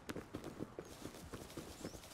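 A horse being ridden in the video game Rust clip-clops with a quick, regular beat of hoof strikes on hard ground. The hoofbeats are close and clear, with about eight evenly spaced steps and no voices over them.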